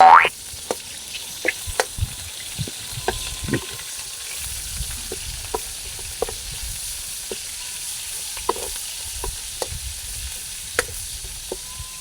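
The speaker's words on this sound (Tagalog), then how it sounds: "Magigisa na po tayo mga kaibigan. So ihulog na po ang sibuyas" Chopped onion sizzles and crackles steadily in hot oil while being sautéed for a Filipino duck stew with papaya, with scattered sharp clicks and scrapes of stirring throughout.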